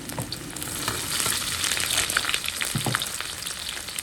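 Sichuan peppercorns with ginger and garlic stir-frying in hot oil in a wok, a steady loud sizzle with scraping stir strokes throughout.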